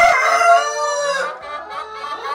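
A chicken on a small farm gives a loud, close, drawn-out call, then softer clucking follows as it trails off.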